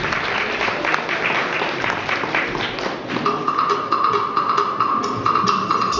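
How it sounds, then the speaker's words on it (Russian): An audience at a festive concert celebrating an institution's birthday claps loudly and continuously to welcome a singer, dense sustained applause with a hum and crowd murmur beneath, with no talk. "Встречайте, пожалуйста, горячие аплодисменты"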